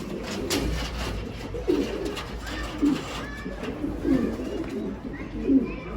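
A pigeon coos close by, several low rolling coos repeating at intervals of roughly a second, over soft background noise with a few faint higher chirps.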